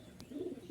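A young female pigeon gives a brief, soft coo, faint and close against a quiet room, with a small tap near the start.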